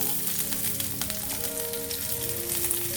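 Shallots and mustard seeds hit hot coconut oil and fry with a dense, steady sizzle and crackle, close and continuous with faint popping throughout.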